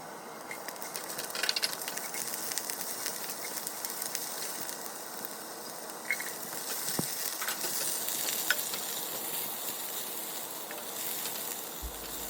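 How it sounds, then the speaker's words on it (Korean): Ginger and green onion sizzle steadily in hot oil in a frying pan, a soft continuous crackle with occasional scraping stirs and clinks of a utensil. "달궈진 후라이팬에 기름을 두르고 많은 생강, 대파순으로 향이 올라올 때까지 볶아줍니다."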